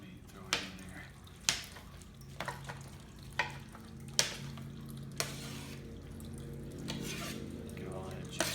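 Chunks of meat hit a hot pan and are stirred and scraped, with several sharp clanks of a utensil against metal over a steady sizzle; someone talks intermittently throughout.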